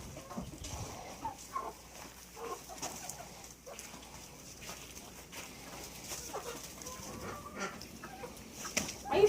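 Hens cluck and murmur softly in a coop, scattered low calls over a faint rustling background, with a slightly louder cluck near the end.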